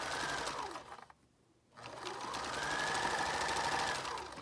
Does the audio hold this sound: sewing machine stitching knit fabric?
yes